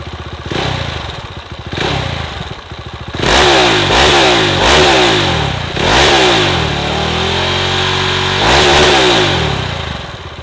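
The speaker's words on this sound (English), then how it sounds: "this is what the Vitpilen 701 sounds like" A Husqvarna Vitpilen 701 single-cylinder motorcycle idles with a loud, lumpy thump, then revs sharply several times in quick blips, settles, and revs once more near the end, alone and close.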